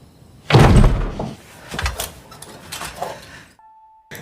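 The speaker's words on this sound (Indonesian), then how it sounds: "dia mendengar suara gerusak-gerusuk dari pintu kamarnya" A bedroom door at night rattling: a loud knock or bang followed by several lighter rattles and thuds, then a brief tone and silence.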